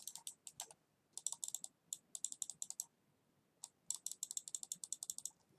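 A computer mouse clicks rapidly during a Roblox game, in quick bursts of sharp, close clicks with short pauses, no talking.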